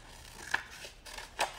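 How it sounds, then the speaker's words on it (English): Scissors snip through cardboard for a paper toaster school craft, two short quiet cuts about a second apart with no talking. "take your scissors and just, you know, go like this and cut it again"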